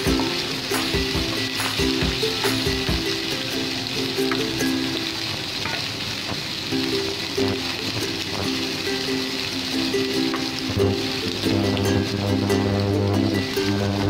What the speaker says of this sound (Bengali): পেঁয়াজটা খুব সুন্দর ভাজা হয়ে গেছে